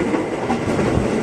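A 12-car JR 205 series KRL commuter train rolls past on the Bogor line, a steady close rumble of wheels and rail clatter filling the short stretch.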